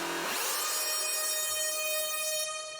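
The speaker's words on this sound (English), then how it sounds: "the preset is called Cranium Drill Bit, and it seems to do some kind of pitch modulation" An Omnisphere synth preset called Cranium Drill Bit gives a bright, buzzy sustained tone whose pitch swoops upward at the start and then holds steady, loud and alone.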